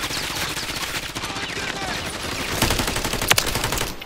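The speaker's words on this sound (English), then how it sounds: "Taking effective fire. Watch your fire." Rapid gunfire in the video game Rust, with dense bursts of shots and heavy cracks packed together, loud and close, while players talk over the shooting.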